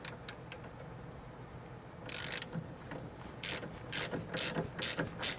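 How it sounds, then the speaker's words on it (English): Ratchet wrench torquing down a sway bar link on a Scion xB, heard as a few scattered clicks, then bursts of quick ratcheting strokes, fairly close and moderately loud with no talking. "And now I'm just gonna torque it down. And if my wrench will cooperate."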